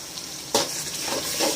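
Ground ginger paste drops into a hot pan for chicken gravy with a sudden wet splat, followed by a steady close sizzle and frying hiss.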